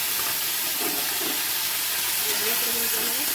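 Steady, dense sizzling hiss of spices, green chili and ginger frying in hot oil, continuous and close throughout.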